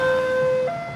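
An ambulance siren sound effect plays during a football match broadcast: a steady, loud electronic wail holding two bright tones for about a second, with no voices over it.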